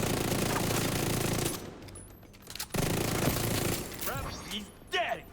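Video game gunfire aimed at a sniper drone, heard as dense rapid bursts of automatic shots that stop abruptly, then return in short volleys with whooshing effects near the end.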